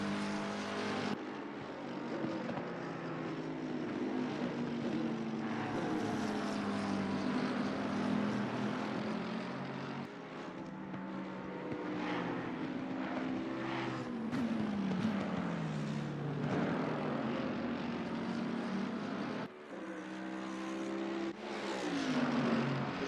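GT3 race car engines, a McLaren among them, snarl through the Real Racing video game, with continuous revving that rises and falls in pitch through gear changes and corners, loud and up close with no talk.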